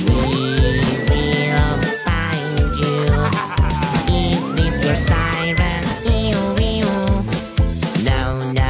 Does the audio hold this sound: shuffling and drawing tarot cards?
no